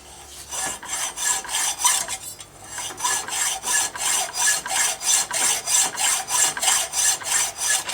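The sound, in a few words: hacksaw cutting a groove in metal for forged tongs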